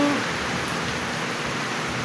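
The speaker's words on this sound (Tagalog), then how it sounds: "ang ulan-ulan dito ngayon" Rain falls steadily during an afternoon downpour, a soft, even hiss that stays fairly quiet and unbroken for the whole stretch, with no voices.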